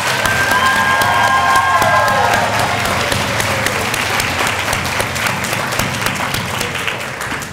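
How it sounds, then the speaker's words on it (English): Sustained applause from an audience at a health sciences graduation ceremony for new medical assisting and practical nursing graduates, steady and full, slowly tapering toward the end. "How about another round of applause for these new graduates?"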